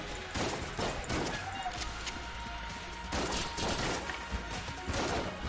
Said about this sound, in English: If you keep shooting long enough, they'll die.